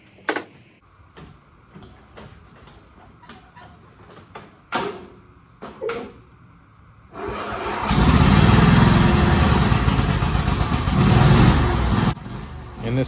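A Craftsman DYT4000 riding lawn mower engine turns over and catches, then runs loud and steady close by for several seconds before easing off; clanks and brief voices come before it starts.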